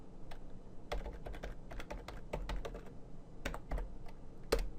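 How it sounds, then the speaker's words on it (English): A password is typed on a computer keyboard: bursts of quick, light key clicks with short pauses between them, close and quiet, no voices. "So you need to type in your password."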